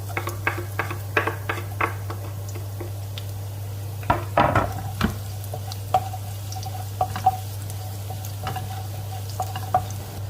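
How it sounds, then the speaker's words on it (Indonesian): Garlic sizzles in hot oil while a utensil stirs and scrapes a pan in irregular clicks and knocks, over a low steady hum. "Selanjutnya kita akan masukkan bawang putih, kita oseng."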